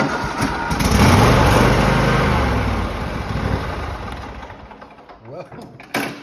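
A Cub Cadet riding mower engine cranks and catches, running loud and close with a rough, steady drone that slowly fades, followed by a few short knocks near the end.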